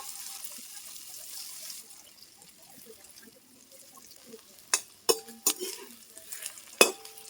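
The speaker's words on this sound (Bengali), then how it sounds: "একইভাবে এই ভেন্ডিগুলো ভেজে নেব" Okra (lady's finger) frying lightly in oil in a home kitchen, a steady soft sizzle with a few sharp utensil clinks and scrapes near the end.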